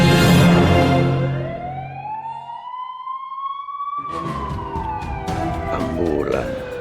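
An ambulance siren lets out one loud, sweeping wail that rises slowly in pitch, holds, then blends into a busy mix of louder sounds as it continues.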